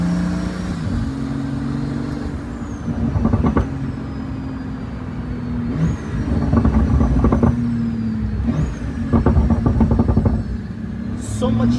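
A Pagani Huayra BC Roadster drives hard over bumpy, pothole-strewn roads in Modena, its engine roaring up through repeated surges and gear shifts, loud and close from inside the car, with voices faintly audible beneath.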